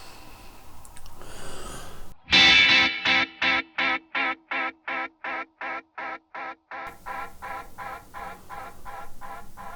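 NUX Tape Echo pedal delay repeats follow a sharp guitar attack, a long train of evenly spaced echoes fading and growing duller as they go on, close and without talk.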